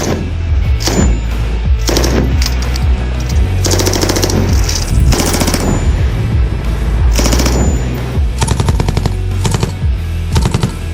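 Heavy gunfire rings out at an army firing range in the Himalayas, repeated loud automatic bursts and single cracks with echoing tails, close and dominant over a low rumbling background.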